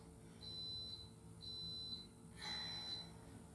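A coffee maker in a home kitchen gives three faint high-pitched electronic beeps at an even rhythm, the last one slightly longer and louder, heard from a distance over a quiet room.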